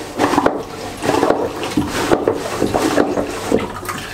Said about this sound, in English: it will pump water in and out at the same time